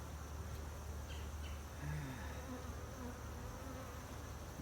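Honey bees buzz steadily around an open hive during an inspection with sugar-water feeding, a dense close hum filling the whole stretch with a few individual bees droning past near the microphone.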